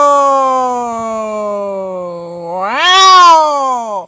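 A man imitates two cats meeting, his voice sliding through long drawn-out meows that rise into a louder, strained wail near the end, tonal and close with no other sounds.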